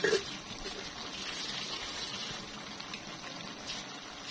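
Water is poured into a cooking pot of eggplant binagoongan on the stove, a faint steady hissing trickle of liquid, quiet and continuous with no talk.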